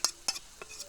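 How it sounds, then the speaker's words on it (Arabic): A spoon stirs fava beans with onion, tomato and pepper in a pot: three quick, faint scraping clinks within under a second. "نقلب الفول مع البصل مع الطماطم مع الفلفل"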